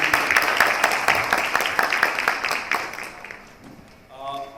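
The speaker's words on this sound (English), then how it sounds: "Please give a big round of applause." Audience applause at a panel discussion on corporate governance fills the room, a dense patter of clapping that gradually thins and fades before a voice begins speaking.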